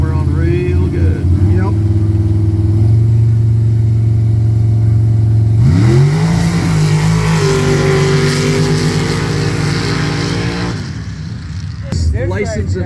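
High-horsepower vehicles rev hard on a wet, muddy mud-run track, a loud sustained engine drone that surges and shifts pitch, with a voice talking over it.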